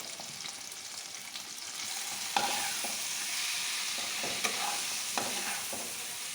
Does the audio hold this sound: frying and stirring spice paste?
yes